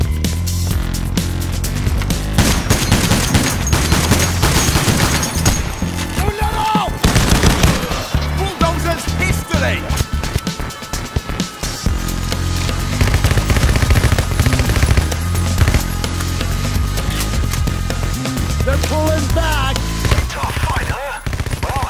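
Sustained automatic gunfire and rapid shots from a heist shooter game, including a Tec-9 style machine pistol, rattling loudly and continuously with bursts layered over each other, with occasional voices underneath.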